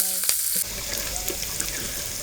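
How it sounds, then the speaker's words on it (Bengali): Small fish simmering with vegetable stalks in a hot pan in a village home kitchen, giving a steady, close frying sizzle throughout with a brief clatter near the start and no talk. "দুপুরবেলা রান্না হচ্ছে ডাটা দিয়ে মাছ"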